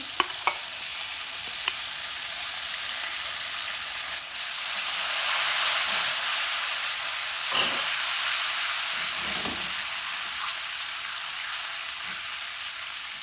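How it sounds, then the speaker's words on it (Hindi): Masala with whisked yogurt frying in oil for a bhindi dish, a steady close sizzle and hiss that swells slightly midway, with occasional soft stirring scrapes and no talking. "अब आपने इसकी भी भुनाई उतनी देर करनी है कि ये ऑयल छोड़ दे, अच्छी तरह भुनाई हो जाए।"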